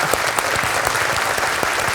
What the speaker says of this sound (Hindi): भाई उनको ताली तो बजा लेने दो.